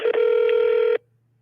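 A single telephone ring tone from an outgoing call sounds loud and close for about a second, then cuts off to near silence.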